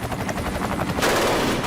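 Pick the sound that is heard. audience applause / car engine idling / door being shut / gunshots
gunshots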